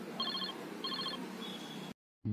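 A telephone rings with an incoming call, two repeated electronic ring bursts and a shorter third tone over a steady hum, then it cuts abruptly to silence before a brief noise returns.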